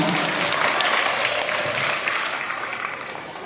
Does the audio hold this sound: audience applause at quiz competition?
yes